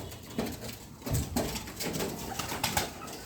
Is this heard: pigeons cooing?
yes